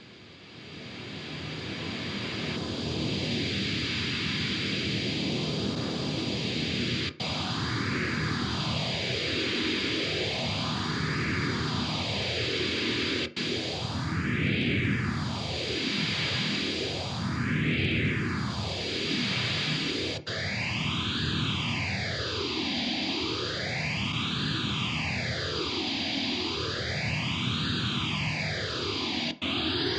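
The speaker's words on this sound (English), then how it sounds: "if we put some pink noise through a phaser, we can actually see those notches moving around." Pink noise runs through a Hardwire SP-7 stereo phaser, a steady loud hiss with deep notches sweeping up and down in slow repeating waves, the sweep growing faster and more pronounced as it goes.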